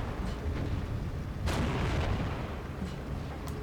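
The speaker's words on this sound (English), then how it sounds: "This unit is going to come under some pretty heavy fire here." Heavy fire pours onto a Grenadiers infantry unit in the strategy game Steel Division 2: a muffled, distant rumble of artillery and gunfire rolls on continuously, with one sharper burst standing out midway, and nobody speaking.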